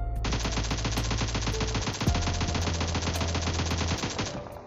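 Automatic rifle fire in PUBG Mobile during jiggle fire, a long unbroken burst of rapid, evenly spaced shots, loud and close, with no talking.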